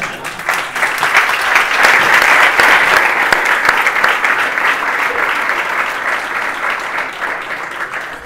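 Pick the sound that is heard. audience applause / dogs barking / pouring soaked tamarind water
audience applause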